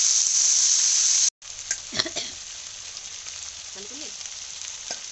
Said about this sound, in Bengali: চলো আলুটা একটু ভাজা ভাজা করে নিই।